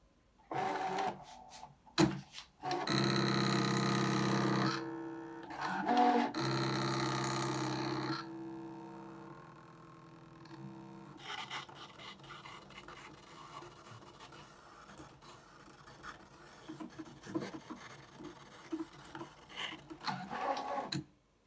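Brother ScanNCut SDX cutting machine slicing through printer paper: loud mechanical whirring bursts with pauses, then a quieter stretch of scraping and rubbing as the blade moves.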